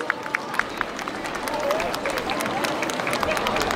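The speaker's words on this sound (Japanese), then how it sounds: "もう一度盛大な拍手をお願いします。" A festival crowd claps and cheers after a dance team's performance at the Hitachi Mai Matsuri 2015, producing a steady wash of applause with a few sharp claps near the start, while an announcer speaks over it.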